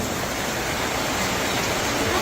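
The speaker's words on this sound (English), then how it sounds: "Rain is expected to stop in 33 minutes." Steady rain pours down at an outdoor festival, a dense even hiss of drops on surfaces, loud and continuous throughout with no pauses.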